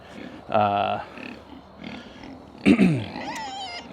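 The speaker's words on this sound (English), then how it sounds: "So the coonies are a lard pig, so they can get fat pretty quick." Kunekune pigs, a lard breed, grunt and squeal nearby in a couple of short bursts with pauses between, the calls loud and close against a quiet farm background.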